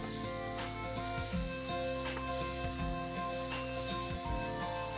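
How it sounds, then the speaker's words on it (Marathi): Goda masala mixture cooked in a frying pan for misal, with a continuous soft sizzle and occasional stirring scrapes, steady and close, with no talking. "पुन्हा एकदा मिक्स करून घेऊया."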